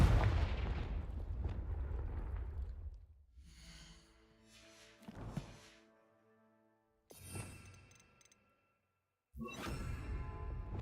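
Confringo fire spell blasts in Hogwarts Legacy, several booming explosive bursts with crackling tails separated by short pauses, loud and close with no talking.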